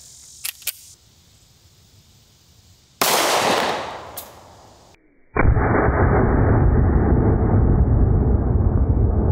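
.45 pistol shot fired at a torso target 100 yards away, a sharp loud crack followed by a decaying tail, then a sustained harsh noise burst, with faint clicks before it and no speech.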